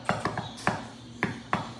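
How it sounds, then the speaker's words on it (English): Knuckles rap on a front door in a short pattern: three quick knocks, a single knock, a pause, then two more spaced knocks, moderately loud in a slightly noisy setting. "my knock kind of sounds like this"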